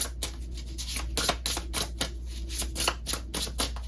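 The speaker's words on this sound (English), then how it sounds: "This is a new deck, so it's a little hard to shuffle." A new tarot card deck being shuffled, stiff cards riffling and snapping in quick rhythmic bursts close up over a low steady hum.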